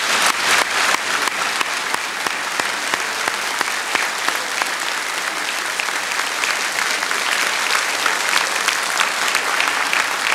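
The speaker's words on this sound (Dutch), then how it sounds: "Dames en heren, ik vraag u een applaus voor Arie Maasland Malando." A studio audience on a 1977 Dutch television variety show applauds the arrival of a tango bandleader, a dense, steady roar of clapping that stays loud and unbroken for the whole stretch with no talking over it.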